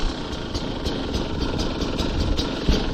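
A 2022 Beta 200 Racing Edition two-stroke dirt bike idles steadily close by, a continuous burbling engine note with faint uneven pulsing and no voices.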